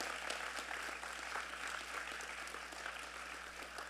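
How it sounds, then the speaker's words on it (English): Steady applause from an audience at a community celebration thanks the event sponsors. Many hands clap evenly and fairly quietly for the full stretch, with no talk over it. "We get a round of applause for all of our sponsors"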